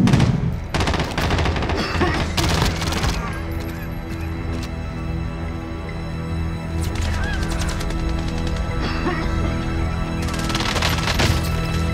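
Rapid bursts of video game gunfire from a military shooter match, loud and dense, with repeated volleys spread across the stretch and a strong clustered barrage near the end.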